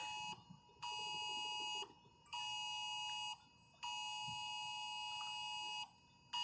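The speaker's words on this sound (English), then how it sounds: "my emergency alert just screwed up my video" A phone's emergency alert tone sounds during a tornado-warned storm in Piedmont, Oklahoma: three long, steady electronic blares with short gaps between them, loud and close over faint background rumble.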